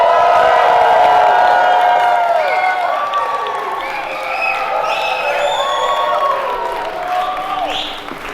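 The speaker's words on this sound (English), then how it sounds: "some voices shouting, cheering, some hands clapping for the love of my life and the beautiful bride" Wedding guests cheering, whooping and clapping for the bride, a loud, dense crowd roar with shouts and applause that tapers off slightly toward the end.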